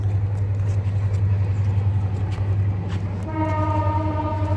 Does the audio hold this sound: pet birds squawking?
no